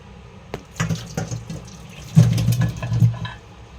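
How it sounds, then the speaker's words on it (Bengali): Water poured off boiled food in a home kitchen, seasoned with salt and turmeric, splashing and running into a sink in uneven bursts, loudest toward the end, with no talking. "আমি এটা আবার জল ঝাড়ে নেব"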